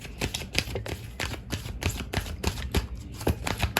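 Tarot cards being shuffled by hand, close and crisp, with a quick run of riffling flicks and soft slaps in an uneven rhythm, no voices heard.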